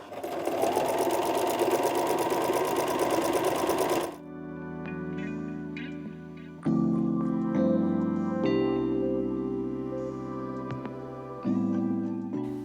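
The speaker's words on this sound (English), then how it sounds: "I have a lot of sewing to do. I'll spend the whole day sewing, I think, but that's fine." A sewing machine stitches in bursts: a loud, fast run at first, then shorter bouts of humming mechanical stitching separated by brief pauses, close by with no talking.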